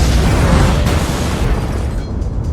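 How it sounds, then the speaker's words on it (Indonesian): A bomb blast tears apart a parliament building: a loud, close, broadband roar with deep rumble that fills the whole stretch and eases off slightly toward the end, with no voices. "ledakan dahsyat menghancurkan gedung parlemen"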